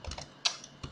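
Rapid keystrokes on a computer keyboard while a name is entered into online reporting software, a quick run of close, light clicks with one sharper tap midway, with no voices.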